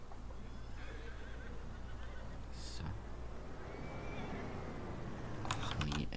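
A horse whinnies in Farming Simulator 19 with a steady low rumble underneath. Two short, high, shrill neighs stand out, one near the middle and one near the end.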